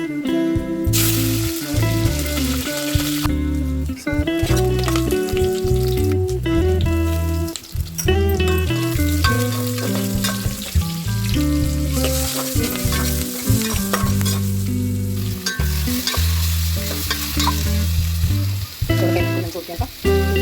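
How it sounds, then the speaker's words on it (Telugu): Spices tempering in hot oil for a dal soup, a bright continuous sizzle with frying crackle and stirring scrapes, loud and close throughout with music-like tonal layers over it. "ఇప్పుడు తాలింపు అయితే పెడుతున్నా అండి."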